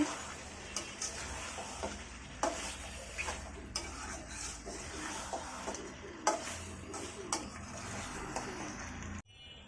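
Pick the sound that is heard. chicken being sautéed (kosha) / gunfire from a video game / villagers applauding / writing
chicken being sautéed (kosha)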